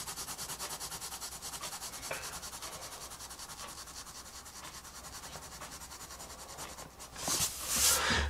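Pencil shading on paper during a drawing, a steady close scratchy rubbing that continues evenly with small pauses, then a louder, brighter scrape at the end.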